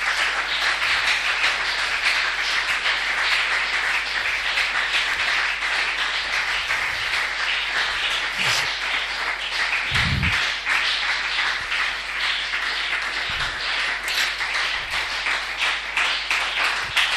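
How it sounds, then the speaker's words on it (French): A church congregation applauds the Lord during a French-language revival service, sustained dense clapping from a large crowd that stays steady and loud throughout, with a few low thumps and no clear talk. "Acclamez pour le Seigneur d'abord ce matin."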